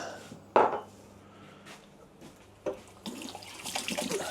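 Tap water runs briefly in a kitchen sink while hands are rinsed during pie preparation, with a soft splash and light clinks of dishes, fairly quiet and close.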